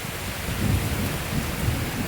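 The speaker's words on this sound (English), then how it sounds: "There's some more thunder." Thunder rolls through a severe thunderstorm with strong winds under a shelf cloud, a low, steady rumble beneath a constant wash of rain and wind noise, with no talking.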